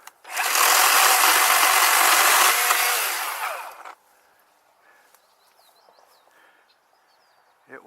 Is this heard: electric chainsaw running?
yes